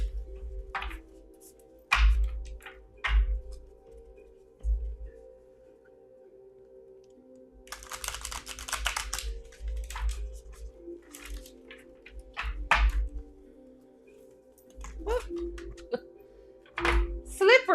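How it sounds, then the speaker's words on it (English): Soft riffling and tapping of a deck of tarot cards being shuffled up close, in short bursts between quiet moments, with a voice speaking now and then. "Make sure that these have got a good little shuffle"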